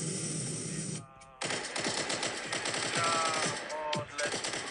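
Rapid automatic gunfire in a sandbox video game crackles in dense bursts, with a brief pause and short gaps between volleys, loud and close.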